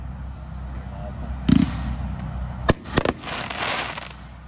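An Art of the Fires consumer firework shoots, giving a few sharp pops and crackling bursts at middling distance, with people talking over it.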